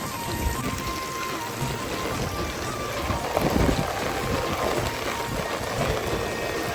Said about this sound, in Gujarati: એટલો વરસાદ પડ્યો જબરજસ્ત આજે